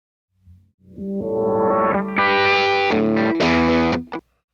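A distorted synth tone swells and shifts as an automated high-cut filter sweeps its brightness up and down, with bursts of buzzing harmonics before cutting off abruptly.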